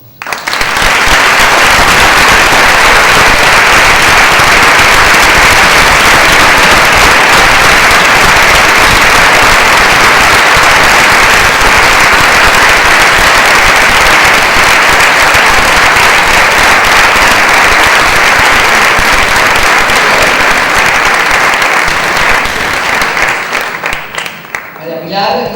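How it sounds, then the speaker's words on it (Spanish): A long, sustained, warm ovation from a big audience at a Valencian Fallas proclamation ceremony, loud and unbroken throughout, tapering slightly at the very end. "que se convierta en este momento en un cerrado y cálido aplauso"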